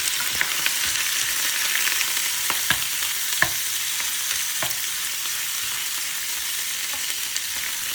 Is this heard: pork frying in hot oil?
yes